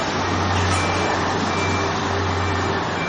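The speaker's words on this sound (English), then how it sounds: "there's a big garbage truck" A big garbage truck rumbles nearby on a street by a building site, a loud, steady engine drone with a low hum and traffic-like roar, no talk.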